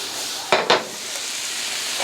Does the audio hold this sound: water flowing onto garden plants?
no